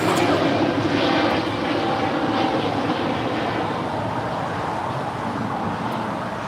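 An airliner taking off from runway 25 right at LAX, a loud continuous broadband engine roar held steady throughout and easing slightly toward the end, no clear talk.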